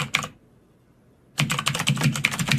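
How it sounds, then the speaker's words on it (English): Fingers tapping on a computer keyboard, a short burst of keystrokes, a pause of about a second, then a rapid run of close, crisp clicks. "I'll just use a comma on my keyboard"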